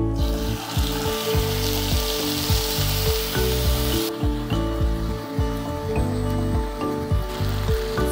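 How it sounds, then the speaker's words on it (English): Chicken thighs sear in olive oil in a pan, a broad crackling hiss that is loudest in the first half and then settles lower beneath steady tonal background music. "Let's start with the frying of chicken, rather searing of chicken."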